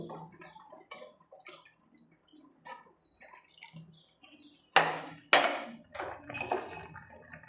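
Water from a glass pours into a cooking pot of lentil sambar, with soft trickles and clinks at first, then two louder splashing pours near the end, close by and without speech.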